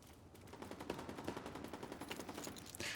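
Rapid, faint shotgun fire in a video game, a steady run of blasts over about three seconds with no talking.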